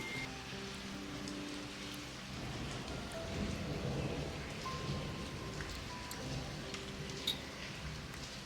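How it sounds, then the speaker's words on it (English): Steady rain falls outdoors as a continuous soft hiss, with a low rumble building in the middle of the stretch, heard alone without talk. "it rained a couple of days ago and then it stopped, and then it's raining again today"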